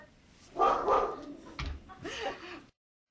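A dog across the street gives a few short, moderately distant barks and yips in quick succession, with a faint voice briefly in between.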